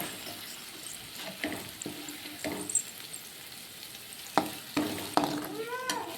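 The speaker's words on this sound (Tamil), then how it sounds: "நல்லா இந்த அளவுக்கு தக்காளி வதங்கட்டும்" Tomatoes sautéing in a pan for semiya upma, a low background sizzle broken by sharp spoon clinks and scrapes against the pan at irregular intervals, with a faint splash of water near the end.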